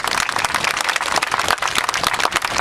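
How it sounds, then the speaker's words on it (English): Dense audience applause at a civic gathering, steady and loud throughout with no talk over it. "give yourselves another round of applause for your civic engagement"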